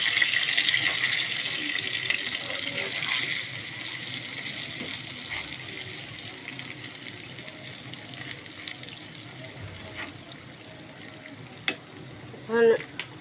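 Pieces of rui fish shallow-fry in hot oil in a Bengali home kitchen, giving a steady close sizzle throughout, with a few clinks and a brief louder stir near the end.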